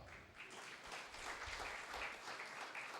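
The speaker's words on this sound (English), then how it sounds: "You will clap for him until he gets here." Conference audience clapping as a panelist walks up to the stage, a continuous soft patter of many hands heard from a distance, faint and even throughout.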